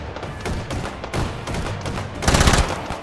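Rapid bursts of SMG fire in the virtual reality shooter H3VR, loud and close, with short automatic volleys broken by brief gaps and a heavier cluster near the end.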